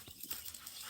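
Dogs out on a countryside walk, with close, rapid panting breaths pulsing in a quick rhythm over a brief moment of soft outdoor background.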